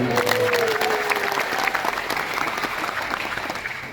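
A crowd claps in a burst of steady applause that gradually thins and fades over a few seconds.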